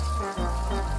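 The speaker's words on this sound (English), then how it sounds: "And then just frying both sides for 7 or 8 minutes" A flour-coated uku fish fillet fries in a pan, giving a steady, dense sizzle and crackle up close with no voices.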